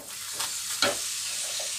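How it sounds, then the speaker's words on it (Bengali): Paratha frying in a pan with a little oil gives a quiet continuous sizzle, with two brief brighter bursts of spitting as the bread is pressed or moved. "আমি আগে এইভাবে সবকটা পরোটা ভেজে নেব"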